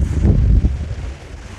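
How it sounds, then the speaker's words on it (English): Gusty wind buffets a microphone on a UK beach during cod fishing, a loud low rumbling roar that swells at first and then eases over a brief moment. "Wind's got up a bit,"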